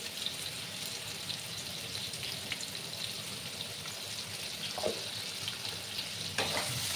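Pumpkin pieces with turmeric fry in a pan over a raised gas flame, a steady sizzle broken by a few scraping stirs and clinks, with no voices.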